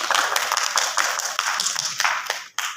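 An audience at a Punjabi poetry gathering claps in a lively, uneven burst of many hands, close and steady for a couple of seconds before briefly dropping out and resuming.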